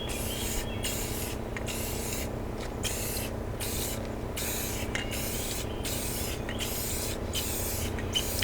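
Spray paint hisses onto an old dresser in long, steady bursts separated by short pauses, the repeated on-off spraying close and loud with no talk.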